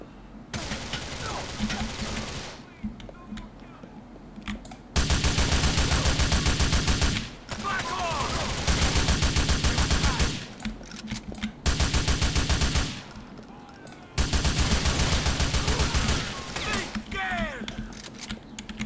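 GTA 4 shootout, with bursts of loud automatic gunfire in several long blocks separated by short pauses, mixed with game sounds and occasional talk in the background.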